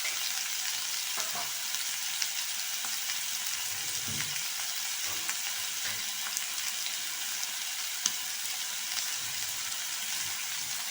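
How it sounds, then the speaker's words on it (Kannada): A handful of cashews frying in a pan for pumpkin pasta: a quiet, steady crackling sizzle with occasional soft scrapes and taps of stirring, close but low in level, no talk. "ಒಂದು 3 ಮಿನಿಟ್ಸ್ ಹೀಗೆ ಇದು ಫ್ರೈ ಮಾಡಿಕೊಳ್ಳುವ"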